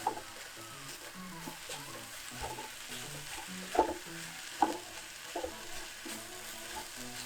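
Ingredients stir-fry in a pan inside a camper van in Mexico, with a soft continuous sizzle and scattered scraping stirs and clinks, a few sharper knocks midway.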